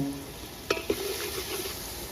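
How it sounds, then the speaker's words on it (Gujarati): Onion with salt and asafoetida frying in oil for a Kathiyawadi sev lasan shaak, a faint soft sizzle broken by two quick stirring clicks near the start. "આ બધી વસ્તુને થોડી વાર તેલમાં સડવા દઈશું"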